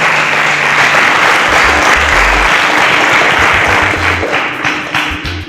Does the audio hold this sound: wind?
no